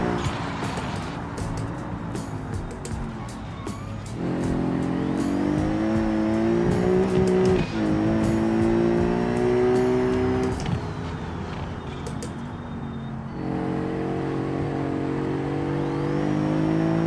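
A Super GT Sunburst race car in a sim racing game makes a steady, loud engine drone. The pitch climbs and falls through repeated revs and gear changes, with brief tire noise, heard alone without talk.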